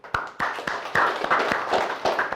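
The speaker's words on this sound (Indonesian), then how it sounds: "berikan aplaus deh dulu" Brief applause in a classroom: a small group claps in loose, uneven bursts for a couple of seconds, the claps sharp and close but thin and not very lively.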